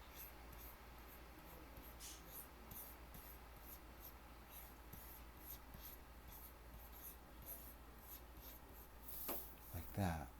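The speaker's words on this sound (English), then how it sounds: "what I need to do is I need to draw an ellipse" A pen drawing an ellipse while sketching a cylinder makes a faint, continuous scratching on a writing surface, close but quiet, with a louder scrape near the end.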